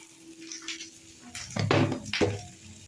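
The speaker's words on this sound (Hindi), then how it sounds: "सुर सुर लगता है तड़का" Hot oil crackles and sizzles in two sharp bursts as tempering spices for dal hit it, over a steady low hum of kitchen background.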